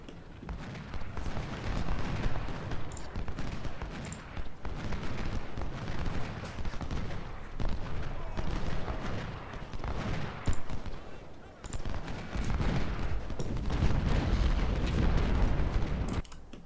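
Musket and cannon fire crackles almost without pause in an Ultimate General: Civil War battle at Parker's Crossroads, with dense overlapping volleys and occasional louder booms.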